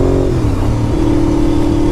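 A 2001 Honda RC51 motorcycle engine revs loudly and close by in a steady drone, its pitch dipping and then climbing and holding higher, with no talking.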